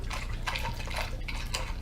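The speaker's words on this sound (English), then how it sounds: "we are going to go ahead and add in our 2nd gallon of cold water" Cold water pours steadily into a Mr.Beer fermenter during a saison homebrew, a continuous close splashing gush with no pause.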